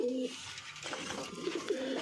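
Soft, low coos from Shakdum pigeons nearby, a couple of throaty calls at the start and end with quiet rustling in between.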